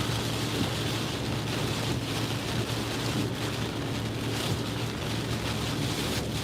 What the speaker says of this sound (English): Yep, and it's just rain.